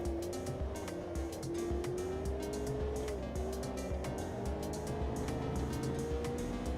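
Race car in a sim racing game sliding on cold tyres, a continuous engine drone with a wavering tone and faint tyre scrub throughout, steady and close with no talk.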